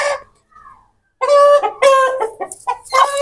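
A chicken clucks and squawks in a short series of loud, close calls after a faint opening note, with no one talking.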